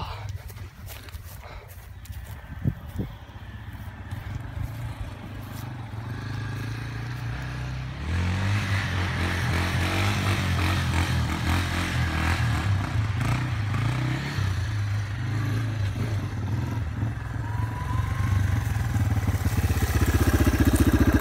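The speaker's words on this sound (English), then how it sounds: "I'm gonna see if I can pop another little wheel stand" A dirt bike engine starts quietly and then revs up into a loud, sustained, rising drone as the rider pops a wheel stand.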